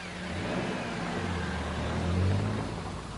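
A Toyota Corolla VII (E100) being driven, its engine a steady mid-pitched hum under broad road and wind rush that swells slightly near the end, with no talk.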